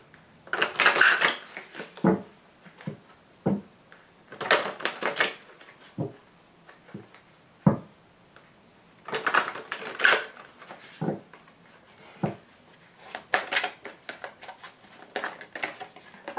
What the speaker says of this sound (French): je vais tirer toutes les cartes